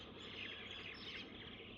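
Birdsong fills a village bus stand in Shembal Pimpri, a continuous soft wash of many overlapping chirps and tweets, faint and unbroken, with nobody speaking.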